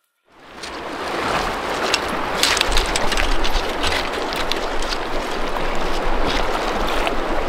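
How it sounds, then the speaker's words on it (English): Steady, full rushing of a mellow stream while someone wades across it alone in big wild country. The water noise swells in after a short silence and stays loud and continuous. "River crossings make me pretty nervous, especially solo, but thankfully this one's pretty doggone mellow, so I'm going to just ease my way across."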